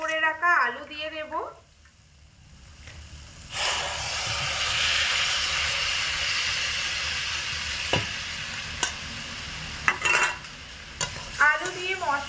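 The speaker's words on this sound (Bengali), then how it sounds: "আলু দিয়ে মশলার সঙ্গে খুব ভালো করে কষিয়ে নেব।" Boiled potatoes sautéed with spices, chili powder and turmeric in a pan, a steady sizzle with occasional spatula knocks, close by, with a brief voice at the start and end.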